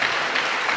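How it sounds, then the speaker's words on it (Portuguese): Applause from a church congregation, a brief, steady wash of clapping at moderate volume with no pauses. "Você pode aplaudir a Jesus pela vida da minha esposa?"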